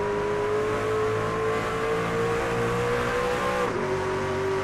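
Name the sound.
race truck engines shifting gears in a racing video game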